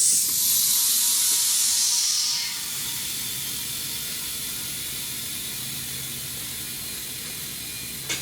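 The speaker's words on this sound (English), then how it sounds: "I might give that a little spritz of air" Compressed air blasting debris off a Chevy Cruze engine during an engine swap: a loud, close hiss for about two seconds, then falling away to a low steady hiss.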